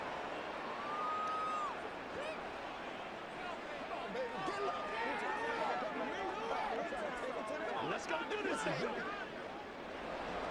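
A Madden 24 stadium crowd at a Colts versus Jaguars game swells with a broad roar, shouts and whistles rising and falling throughout, moderately loud and continuous.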